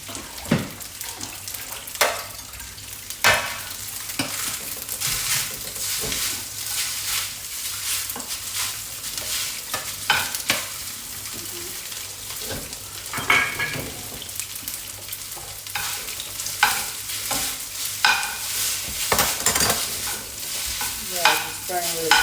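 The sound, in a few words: stirring frying Vietnamese rice noodles (hu tieu xao)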